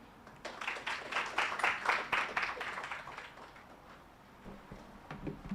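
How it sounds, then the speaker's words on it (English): Brief burst of clapping from a small audience at a Funguo investee unveiling event, welcoming the moderator; it swells over about two seconds, then thins to a few scattered claps. "A hand of applause, please"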